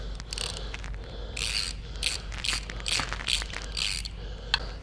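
A ratchet loosens the oil pan bolts on a Ford 7.3 Godzilla engine, giving bursts of rapid metallic clicking over a steady low background hum, close and moderately loud.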